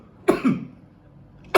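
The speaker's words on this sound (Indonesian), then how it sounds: "sorry, gue lagi agak sedikit batuk ya" A man coughs twice in quick succession, then a third sharp cough follows after a pause, close to the microphone with no talk around it.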